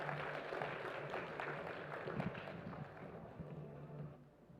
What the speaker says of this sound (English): So ladies and gentlemen please give a big round of applause